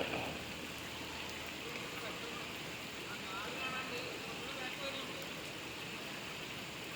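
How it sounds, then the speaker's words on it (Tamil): Heavy rain pours steadily at the foot of Palani hill, a dense, continuous hiss of drops on surfaces, fairly faint and unbroken throughout. "மழை நல்லா பெஞ்சிங்குது"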